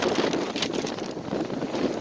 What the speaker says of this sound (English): Oh, it's getting really windy.